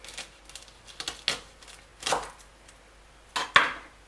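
A knife cuts through a garlic bulb on a board, giving about five sharp, crisp chops spaced irregularly, close and fairly loud against a quiet background.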